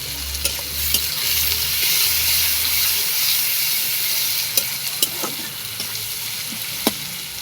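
Onions with a little salt sizzle steadily in a pan on a gas flame, with a spoon scraping and stirring through them at a few sharp moments, close and continuous, with no voices.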